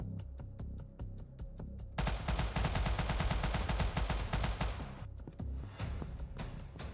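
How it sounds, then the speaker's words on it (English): Gunfire in the video game Banker Simulator, rapid repeated shots in a steady rattling burst, loud and dense, easing off toward the end. "This guy's still shooting at me."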